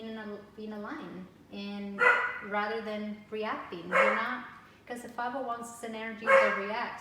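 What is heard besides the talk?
dog barking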